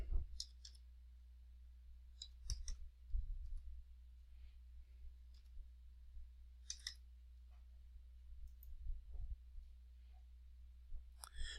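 Sparse computer mouse clicks sound faint and close in a quiet room, single and double clicks spaced irregularly over about ten seconds against a low steady hum.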